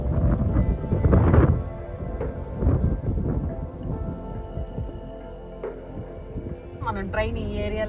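Rain in a village with thunder approaching: a heavy low rumble swells in the first couple of seconds, then a steady wash of rain and lower rolling thunder continues throughout.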